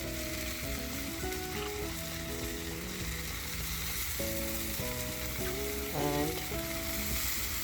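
Chopped tomatoes sizzle and fry steadily in a pan for an onion chutney, a continuous close crackle with some stirring, under faint background tones and a brief spoken word.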